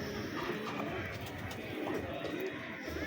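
Soft, low pigeon coos sound faintly against steady background noise, with a clipped-wing pigeon nearby.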